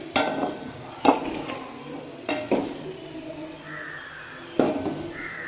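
A spoon stirs potatoes frying in a pan, with four distinct scrapes and clanks against the metal spaced over a steady background sizzle.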